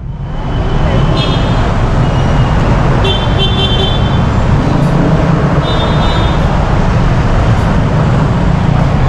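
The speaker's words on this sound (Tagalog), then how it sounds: "Bakit ang traffic sa Pilipinas?" Loud, dense city traffic in the Philippines: a constant roar of car and bus engines close by, with several short car horn toots cutting through at intervals.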